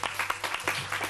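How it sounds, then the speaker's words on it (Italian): An audience at a children's choir show applauds in a brief burst of rhythmic clapping, fairly soft and close, with a low hum underneath. "Applauso!"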